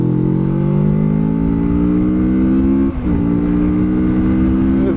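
A 2018 Kawasaki Z650 ABS motorcycle accelerating hard in third gear from about 40 to 80, a loud close engine note rising steadily with a brief dip at a shift-like break, then climbing again, no talk.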